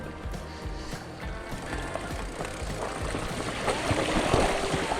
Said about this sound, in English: We go through the creek.